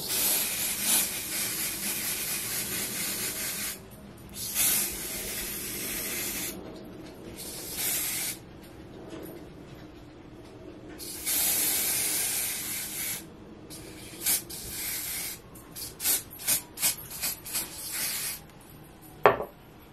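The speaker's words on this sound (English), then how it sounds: "I'm gonna go ahead with my spray and start to spray my lace" Adhesive spray hisses onto wig lace over a cap in several long, close bursts, ending in a run of short, quick puffs, with quiet gaps between the sprays.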